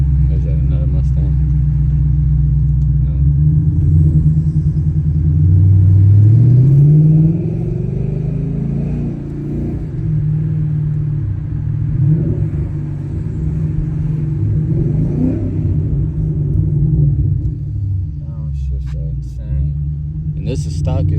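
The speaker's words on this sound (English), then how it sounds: "This is stock exhaust, bro. So like, this is just stock, gang." A Ford Mustang GT with stock exhaust driving in the rain, its deep engine rumble rising and falling as it revs and accelerates, loud and close throughout.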